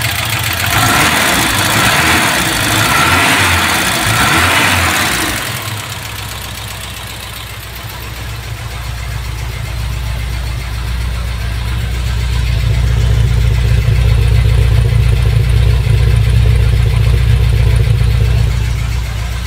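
A 1977 Ford Corcel engine idles smoothly after carburetor work, first revving briefly with a raspy rise, then settling into a steady, even low rumble close by.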